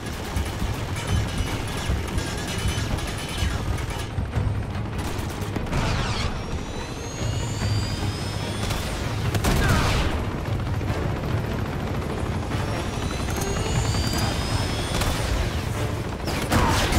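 Dense, continuous gunfire from the video game Uncharted 2, a loud stream of rapid shots and bursts with sharp cracks layered over a steady low rumble for the whole stretch, with no talking.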